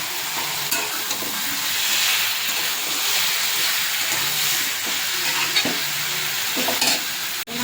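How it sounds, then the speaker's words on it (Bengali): Chopped tomato frying in a pan for a Bombay duck dish, a continuous close sizzle with periodic scraping strokes of a spatula and a sharp knock near the end. "দিয়ে দেবো টমেটো কুচি"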